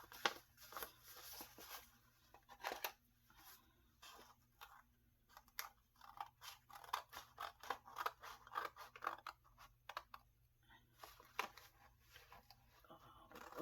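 Scissors snip through paper in a run of crisp, close cuts, some spaced and some in quick bursts, with a low steady hum underneath.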